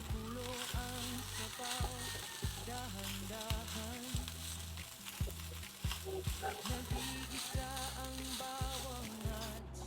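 Chicken liver adobo frying and being stirred, a constant close sizzle with frequent rhythmic knocks and scrapes of a utensil against the pan, along with a faint hum in the background.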